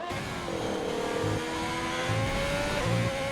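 A scarlet Ferrari race car engine revs in an Italy-set racing video game, a loud, steady engine drone with shifting tones and repeated rises in pitch, with no talk over it.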